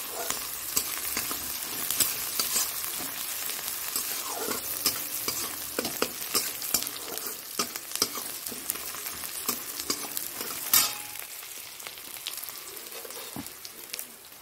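Potatoes dropped into hot oil for a Bengali fish curry with nigella seeds, chopped onion and green chili, sizzling steadily up close while being stirred and scraped around the pan with no talk.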